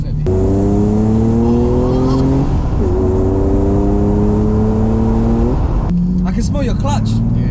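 A 1992 BMW 850i E31 with a V12 and manual gearbox pulls hard and loud from inside the cabin, its engine note climbing through a gear, dipping at the shift and climbing again, with a short voice near the end.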